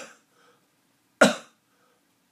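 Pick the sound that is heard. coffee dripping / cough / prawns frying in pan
cough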